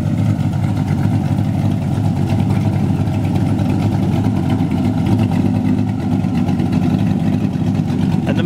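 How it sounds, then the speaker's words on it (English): A 2014 Boss Hoss trike with an LS 6.2-liter V8 settles into a steady, loud idle, a continuous low rumble filling the whole stretch with no pauses. "And the motor settles down to a nice, crispy idle."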